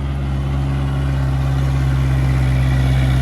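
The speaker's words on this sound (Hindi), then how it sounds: "10 फीट का रोटावेटर चल रहा है मेरे भाइयों ट्रैक्टर पर" A Kubota MU4501 45 HP tractor pulls a 10-foot rotavator with 16-19 gearing. Its engine gives a loud, steady, close drone that holds unbroken throughout, with no voices.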